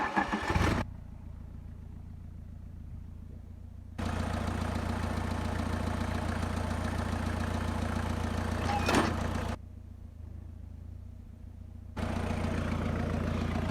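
A homemade rotary mower's small engine fires up and runs, its steady mid-pitched drone rising to a louder throttle for stretches and dropping back to a quieter idle, close and alone without talk.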